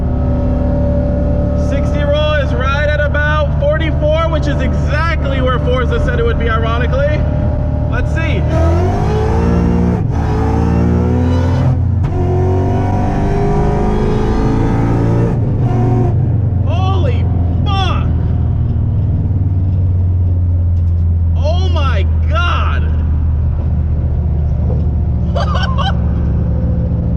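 A car accelerates hard from a 60 mph roll on a freeway. The loud engine rises steeply in pitch as it runs through gears, with shift breaks, inside the cabin with voices over it.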